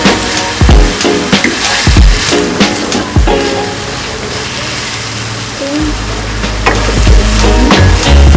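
Mi goreng terasi noodles are stirred in a frying pan over a loud, continuous sizzle, with repeated scraping strokes of the utensil against the pan, close and intense throughout.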